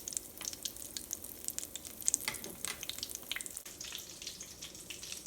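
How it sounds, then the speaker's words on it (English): Potato-filled aloo bonda (batata vada) balls fry in oil over a medium flame, giving a faint, steady crackle and sizzle with small pops and no talking. "So start turning them carefully and fry the other side too."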